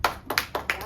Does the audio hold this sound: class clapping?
yes